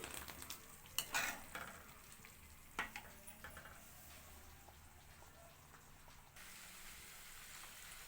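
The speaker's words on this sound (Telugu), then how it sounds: "ఆయిల్ అలా మరుగుతూ ఉండాలి కలిపేసుకుంటూ ఉండాలి" Butter simmering into ghee in a pan, a quiet steady bubbling sizzle under a spoon that scrapes and taps the pan now and then, growing slightly louder toward the end.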